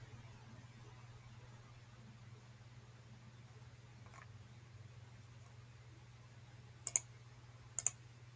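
A couple of sharp, faint mouse clicks on a download link, two quick taps near the end over a low steady hum.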